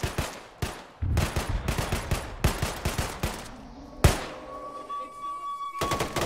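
Rapid gunfire in the military shooter Arma 3, loud repeated bursts of shots and impacts close by, then a sharp single blast followed by a ringing tail before more firing resumes.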